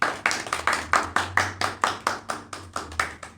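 A single person claps hands in a steady rhythm, about fourteen crisp, close claps over three seconds with no talk over them.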